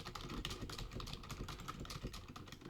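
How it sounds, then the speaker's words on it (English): Rapid, continuous clatter of computer keyboard typing, close and steady throughout with no voices. "I apologize if you can hear my keyboard typing."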